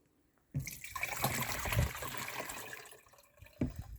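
Liquid is poured into a garden sprayer tank for treating apricot trees, a sudden close splashing gush that runs for about two and a half seconds, then tapers off before a brief final splash.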